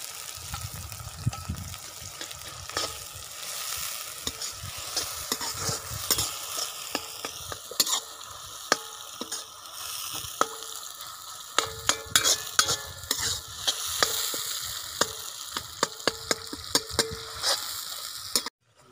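Onions and tomatoes frying in a pan for a chicken liver curry, with steady sizzling under repeated clinks and scrapes of a spoon stirring close up.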